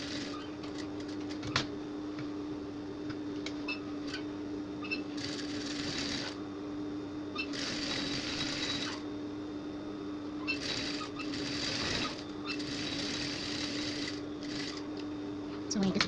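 A sewing machine stitching a gown seam with a half-inch allowance, running in steady bursts of motor whir and needle clatter with brief pauses between runs, close by; a constant hum sits underneath.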